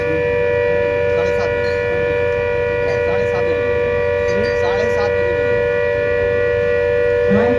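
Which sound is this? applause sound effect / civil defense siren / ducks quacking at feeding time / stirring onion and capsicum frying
civil defense siren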